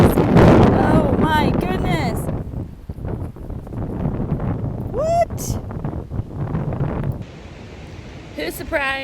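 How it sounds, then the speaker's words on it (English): Strong wind blowing on the Appalachian Trail near the Shenandoah, a loud, steady buffeting rush across the microphone, with someone talking over it. "I know it's so windy"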